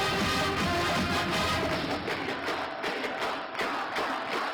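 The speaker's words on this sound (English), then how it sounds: "the cheer and dance teams fire up the crowd" A school crowd cheering as cheer and dance teams perform: a dense, continuous roar of many voices, loud and unbroken throughout, with faint rhythmic pulses underneath.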